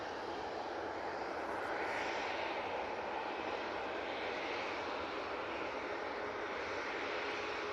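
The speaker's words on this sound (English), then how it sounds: "that is the A321 Neo in the .com livery" easyJet Airbus A321neo in .com livery taxiing at Manchester Airport, heard as a steady, moderately distant engine rumble and hiss that swells slightly and continues evenly with no talk.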